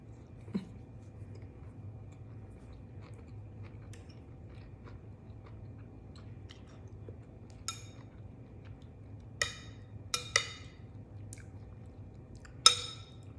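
Quiet, scattered crunches of cooked wild mushrooms from a red amanita mushroom curry being chewed, a few crisp bites spaced apart over a low background hum.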